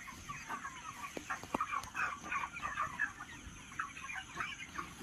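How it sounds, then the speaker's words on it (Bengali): A flock of 35-day-old farm chickens clucks and chirps continuously, a busy steady chorus from many birds at moderate distance, with no talk over it. "আজকে নিয়ে চলে এসেছি আমাদের ফার্মের মুরগি। বয়স আজ 35 দিন।"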